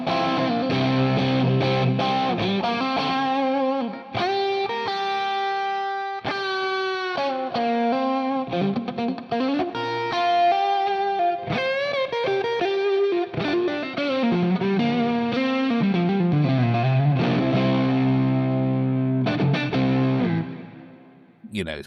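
Crunchy, overdriven electric guitar plays chords and melodic runs through a Plexi crunch-channel amp model, sustained and loud with a thick distorted amp tone throughout.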